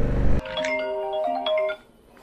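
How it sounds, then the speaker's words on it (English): A phone-call ringing tone plays through an EJEAS Q8 mesh motorcycle intercom: a short burst of noise, then a bright melodic ringtone of sustained chiming notes lasting about a second before fading out. "Hey Siri, call Abby"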